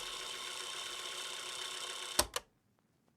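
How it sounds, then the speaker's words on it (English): A tape rewind effect added to the outro of a hip-hop beat: a dense, steady whirring wash that ends in two quick sharp stutters, then cuts to near silence. "added this tape rewind effect."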